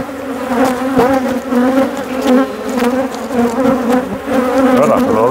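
Honeybee colonies buzz loudly and close during a hive inspection on the Mediterranean coast, a dense, wavering drone of many wings with individual bees flitting past, no voices.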